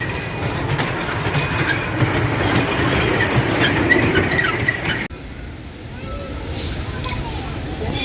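A small toy train in a park rumbles along with rhythmic clatter, then the noise drops off abruptly and quieter background sound continues; voices can be heard faintly.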